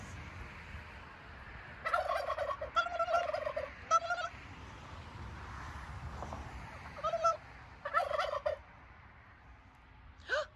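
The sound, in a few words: turkeys gobbling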